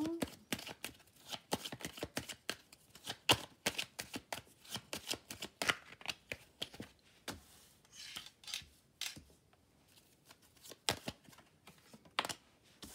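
Tarot cards shuffled by hand in a rapid string of crisp riffling slaps and soft rubbing, close and fairly quiet, continuing steadily with a few short pauses and no talking.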